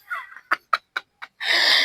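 A few short, sharp bird clucks in quick succession, followed by a burst of loud, noisy squawking from a chicken close by during a chicken harvest.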